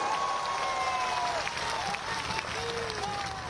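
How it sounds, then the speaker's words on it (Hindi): Crowd applause at an outdoor political rally in Balurghat, West Bengal: a steady wash of clapping from a large gathering, continuous and fairly loud throughout, with faint voices and cheering mixed in. "यदि भरोसा हो तो तालियां बजाइएगा।"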